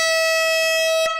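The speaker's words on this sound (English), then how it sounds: "I got to blow the air horn at least once every night this week" A loud, steady air horn blares in one sustained blast with a bright, harmonic-rich tone, cutting off abruptly at the end, heard during a live vinyl record sale stream.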